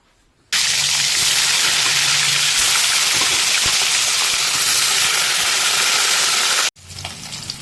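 Fish pieces sizzle in hot oil in a pan, a loud, steady, hissing crackle that starts abruptly, runs unbroken for about six seconds, then cuts off before resuming more faintly.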